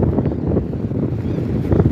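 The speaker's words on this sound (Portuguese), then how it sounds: "Meu Deus do céu, que vento, olha aí, gente." Strong northeast wind gusting on a beach at Laguna, Santa Catarina, a loud, steady roaring rush buffeting the microphone, continuous and close, with no voices.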